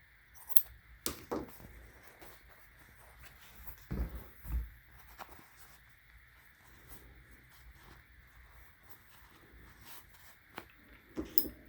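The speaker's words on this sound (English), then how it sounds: "Then I'll just go in with my scissors here." Quiet, sparse snips and clicks of scissors cutting embroidery stabilizer in a machine hoop, a few sharper taps among soft rustling, close by with no talking.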